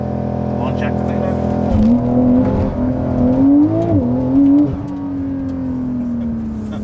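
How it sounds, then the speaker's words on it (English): A 2020 Porsche 911 Carrera S held at steady revs under launch control, then surging forward as the engine note jumps and climbs loudly before easing off, with a voice talking during the run. "It's actually very intuitive as far as how the launch activates. You kind of hold the foot down, floor it,"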